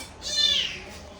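A kitten gives a single drawn-out, high-pitched meow, fairly close and clear, over a quiet indoor background.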